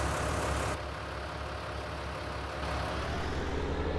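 A tractor engine rumbles in Farming Simulator 19, a loud steady low-pitched drone with constant idling throb and slight shifts in tone, no voices.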